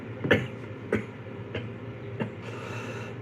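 Four short coughs spaced about half a second apart, close and moderately loud, over a constant low rumble.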